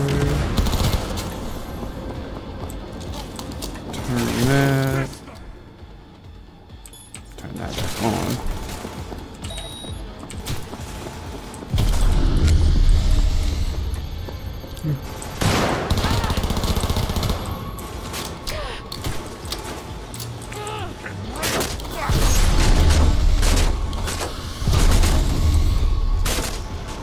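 Turret gunfire in Cyberpunk 2077 on hard difficulty, loud sustained automatic bursts with booming impacts, rising and falling in long waves across the fight, broken by brief lulls and sharp metallic clatter.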